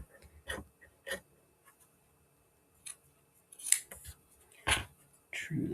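Scissors snip quilt fabric slabs apart in a series of short, crisp, separated cuts, close and fairly quiet, with breathing and small handling noises between the snips.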